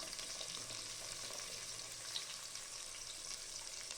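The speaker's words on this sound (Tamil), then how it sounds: "ஹீட்டு கம்மியாக வச்சுட்டு ஆனியன் சேர்த்துக்கோங்க." Onion and garlic frying on low heat in a pan, a faint, steady sizzle that runs throughout without talk.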